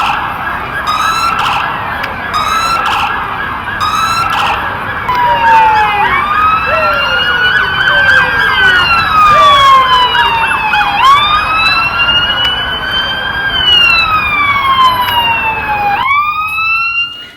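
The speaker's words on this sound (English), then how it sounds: "One of the things that will let you know that you're in a big city, the sounds." Several emergency sirens wail and overlap continuously, rising and falling loudly over rumbling traffic on a busy New York City street.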